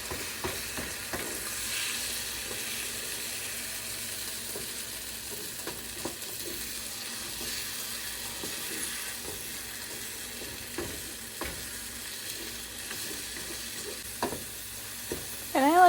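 Scrambled eggs cooking in butter in a frying pan, pushed and stirred with a spatula; a soft steady sizzle runs throughout with occasional light scraping taps, fairly quiet and close, with no talking.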